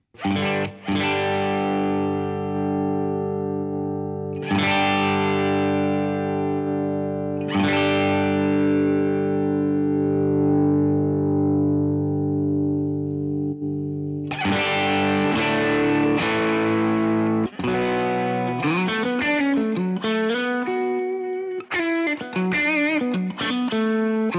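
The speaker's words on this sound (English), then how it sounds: "we can have one amplifier over one side and another amplifier over the other side" Distorted electric guitar chords through a Walrus Audio ACS1 V2 stereo amp emulator pedal ring out and decay slowly, then a quicker picked riff follows, wide and effected, with no talking.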